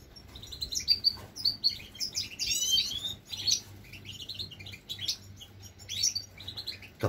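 Nesting goldfinches trill and twitter continuously, quick overlapping chirps and warbles sounding close and fairly loud, with a faint low hum beneath.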